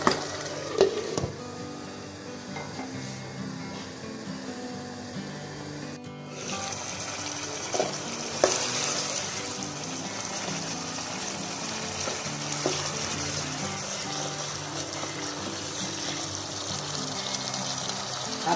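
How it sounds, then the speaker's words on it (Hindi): Potatoes frying in a pan for Pakistani aloo anday ka salan, a soft steady sizzle with occasional stirring clinks that grows somewhat busier partway through, with no one talking. "अब ये आलू पकने शुरू हो गए हैं"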